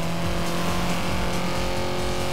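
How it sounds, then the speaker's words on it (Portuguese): A sports car's engine revs steadily in the Need for Speed Most Wanted 2012 racing game, a continuous loud tonal drone with road noise that fills the clip without pause. "Nossa, esse carro aqui é bonito,"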